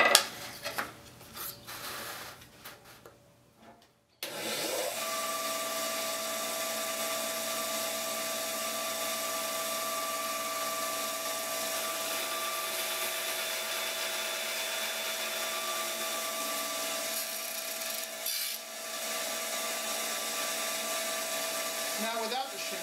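A power tool cuts cherry wood for box joinery, starting abruptly after a few seconds of low handling noise and then holding a steady, loud whining drone until a brief dip near the end.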